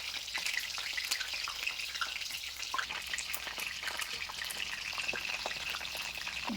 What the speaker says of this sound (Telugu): బాగా కొంచెం డీప్ ఫ్రై చేస్తున్నాము,